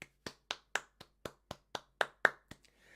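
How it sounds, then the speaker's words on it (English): A single person claps about eleven times in a steady, even rhythm, each clap sharp and close, before stopping and leaving faint background noise. "Can we get a big round of applause, please, for Vanicity's Planet Protector?"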